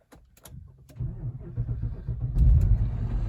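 Ignition of an Infiniti/Nissan car with a cylinder misfire: a few clicks, then the engine turns over and catches into a low rumbling idle that grows louder and settles, no talk.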